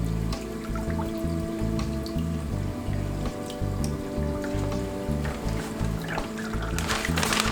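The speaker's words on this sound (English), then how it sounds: "tighten that up a little bit so it drips a little slower." Water drips steadily during drip acclimation of new reef fish for a home reef aquarium: small, repeated drops over a constant low hum, with no talking.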